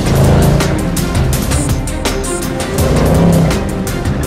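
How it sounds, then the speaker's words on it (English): AMG race taxi driven at racing speed on a track, its engine a loud, steady roar that swells slightly and holds without a break, close up and alone. "experience racing speed in the race taxi"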